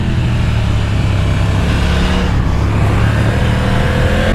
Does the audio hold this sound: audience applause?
no